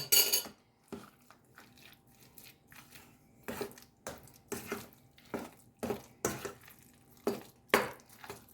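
Repeated scraping and clinking of a spoon against a bowl while mixing a homemade processed cheese mixture with baking soda and salt, irregular strokes heard close up, with quiet pauses between.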